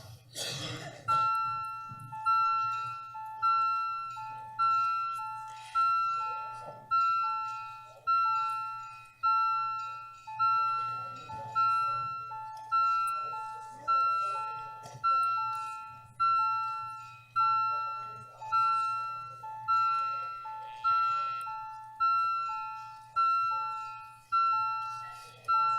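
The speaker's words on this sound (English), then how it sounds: "Ring the bells." Bells ring in a city council chamber to call a recorded vote: a bright electronic chime repeats steadily about once every second and a half for the whole stretch, over a low room hum and faint background coughs.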